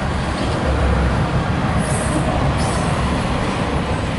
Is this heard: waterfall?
no